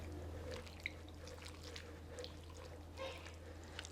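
Beef is mixed with water by hand in a bowl, giving faint wet squelches and soft drips at an uneven pace, quiet and close.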